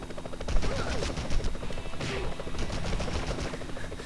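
Gunfire in the Spider-Man (2000) video game: a continuous rattle of rapid shots, like machine-gun fire, dense and fairly loud from start to end.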